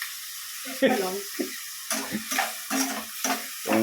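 Squid adobo sizzles in a pan in a home kitchen, with bursts of frying crackle and stirring clatter coming in irregular pulses beside brief speech.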